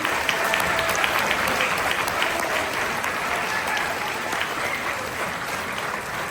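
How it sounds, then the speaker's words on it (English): An audience at a middle school winter band concert claps in sustained, dense applause for several seconds, the sharp individual claps blending into a steady wash at moderate distance. "can we give these guys a round of applause as well?"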